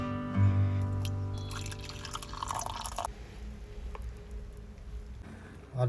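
Hot water poured from a thermos to make coffee during a road trip, a close, steady trickle and splash that fades out over several seconds, with no talk.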